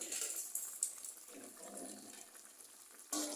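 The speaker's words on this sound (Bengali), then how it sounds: "পানি দিয়ে কষতে থাকে।" Water is poured into a pot of cooking beef, a quiet splashing gush followed by soft bubbling, ending with another short pour.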